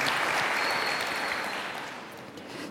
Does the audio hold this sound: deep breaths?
no